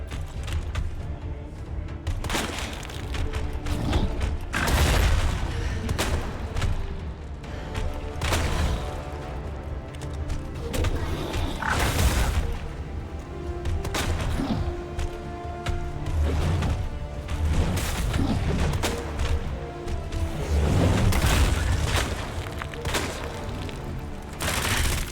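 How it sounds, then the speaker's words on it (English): Machine gun fire during a Resident Evil 2 boss fight comes in rapid repeated bursts of booming shots over game music and effects, loud and continuous throughout. "And then unload on his chest with the machine gun."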